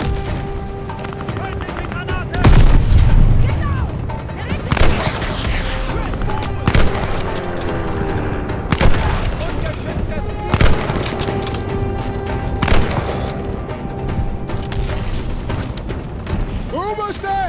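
Repeated turret gunfire from a first-person shooter set in World War II, sharp bursts and booms throughout, loud and close, with mixed in-game effects and a voice talking over parts of it.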